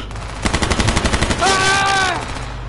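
A quick rattling burst of about ten evenly spaced gunshots in a video game, loud and close, followed by a drawn-out tonal wail that could be a shout.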